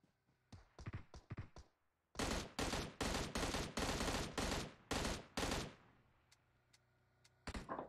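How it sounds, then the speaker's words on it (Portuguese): Bursts of gunfire in PUBG Mobile, a few quick shots followed by a long sustained volley of loud, rapid fire, then sparse isolated shots and a final short burst. "Estão atirando em mim, estão atirando em mim."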